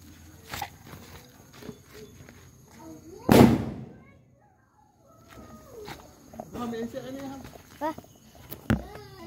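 A single loud boom from a children's toy cannon in a home yard bursts out and rings briefly, amid nearby chatter and scattered clicks and knocks.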